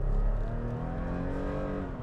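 A 2021 Toyota Tacoma TRD Off-Road truck cruises down the road, its engine giving a steady low drone with a gently rising tone, heard from inside the cab.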